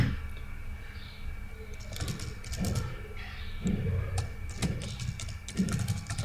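Fingers tap out a program name on a computer keyboard in a series of quick, close, fairly quiet keystrokes, bunched into short bursts with brief pauses, and no voice over them.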